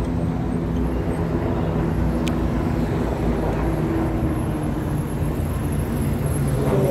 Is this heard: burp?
no